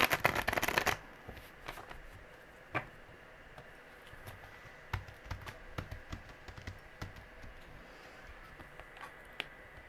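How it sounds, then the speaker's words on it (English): A tarot deck gets a quick, crisp riffle shuffle up close. Scattered soft taps and clicks of the cards follow in a quiet room. "One more good shuffle."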